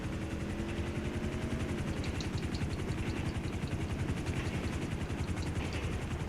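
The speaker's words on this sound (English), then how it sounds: "Get to the chopper." A Sparrow helicopter in GTA 5 Online drones steadily throughout, its thick rotor chop and engine roar loud and close, with a brief rising whine near the start.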